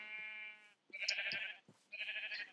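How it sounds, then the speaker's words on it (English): Sheep in a video game bleat twice in short, wavering cries, close and clear, with no talking over them. "Come on, sheep."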